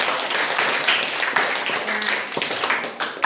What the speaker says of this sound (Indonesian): berikan tepuk tangan dulu untuk Oke